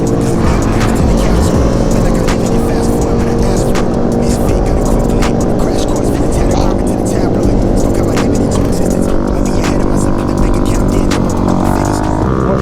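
Engine of a 2020 Honda Grom motorcycle during wheelie riding, a loud continuous droning and revving with wind noise, while people talk over it.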